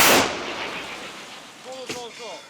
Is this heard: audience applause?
no